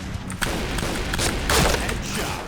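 Pindad SS3 shotgun blasts in the Point Blank online shooter game: a few heavy booming shots, one near the start and a louder one midway, over a constant layer of game noise.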